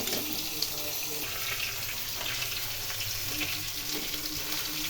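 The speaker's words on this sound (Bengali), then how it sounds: "বারবার এই সময় নাড়তে হবে, নাহলে নিচে লেগে যাবে" Shredded cabbage stir-frying in a pan over a low gas flame, a constant close hiss and sizzle with faint occasional stirring clinks, steady in level throughout.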